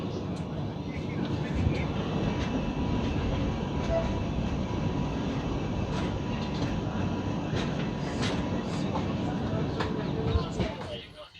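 Onboard a Kolkata to Agra passenger train, a constant dense rumble of wheels and carriage noise fills the clip at a moderate level, with occasional clicks and rattles before it fades at the end.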